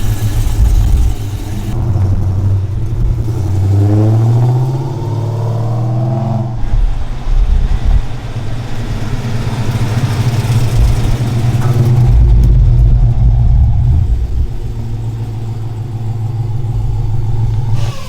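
A custom twin-turbo Pontiac Firebird, a 1,400 hp build, revs up loud and close, its deep engine note rising in pitch as it pulls away, then settling back to a steady rumble.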